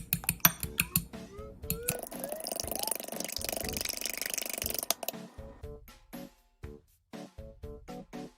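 Eggs beaten in a bowl for Shin Ramyun: a few clinks against the bowl, then several seconds of steady, rapid whisking, then more scattered light taps and clinks.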